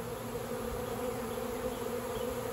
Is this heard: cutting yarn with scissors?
no